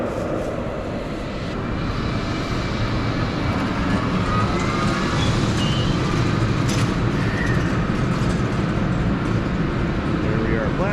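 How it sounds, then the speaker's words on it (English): A train rumbles into a Munich station platform under a steady low roar that slowly builds, with faint station ambience and scattered high squeals over the continuous drone. "And there's our train coming in to take us to Prague."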